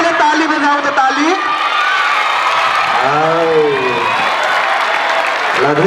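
An audience of school students claps loudly with cheers and whoops, sustained rapid applause throughout while a voice speaks over the crowd.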